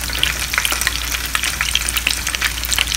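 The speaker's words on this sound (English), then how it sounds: "Shallow fry them for 10 minutes on both sides" Egg-dipped mutton chops shallow frying in a pan make a steady, busy sizzle with dense crackles and pops, close and continuous, with no voices.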